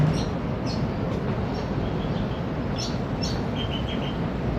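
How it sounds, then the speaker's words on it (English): Faint, scattered bird chirps ring out above a loud, steady rushing noise that fills the whole stretch. "I feel and hear the birds singing with me"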